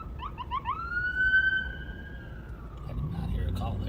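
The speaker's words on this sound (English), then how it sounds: "Here comes another medic rig." An ambulance siren wails as it passes a sheriff's patrol in Ramsey County: a steady, fairly loud tone that slowly drifts lower, with faint voices and road rumble underneath.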